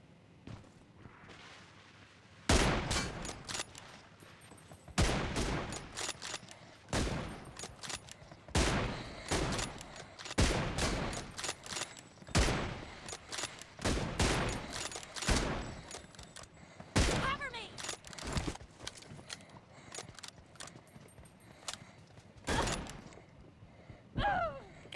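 Video game gunfire crackles in rapid bursts and volleys, loud and sharp, with short gaps between firefights and a low ambient background.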